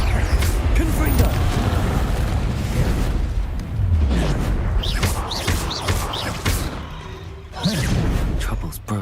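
The Confringo fire-blast spell in the game Hogwarts Legacy: loud, repeated fiery booms and bursts crash one after another amid busy combat effects, with sharp whooshing impacts scattered through the roar.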